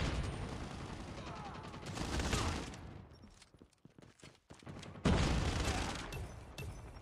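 Sentry gun in Call of Duty Mobile firing rapid bursts of automatic gunfire, loud and close, with short pauses between volleys amid other battle noise.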